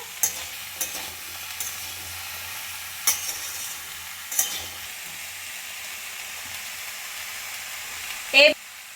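Chopped onion stalks being stirred into mixed vegetables cooking in a pan, with a soft continuous sizzle and a few sharp scrapes of the spatula against the pan, one louder clatter near the end.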